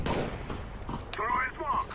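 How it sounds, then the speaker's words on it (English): Gunfire and a grenade blast in Counter-Strike: Global Offensive, dense rapid shots and bursts with a muffled explosive thump, under a player's brief voice. "Grenade out."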